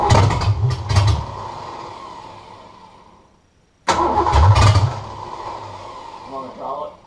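A Ford Falcon engine runs at idle while the idle is being set, a steady mid-pitched rumble that fades, cuts out briefly, then picks back up with some revving; voices talk over it.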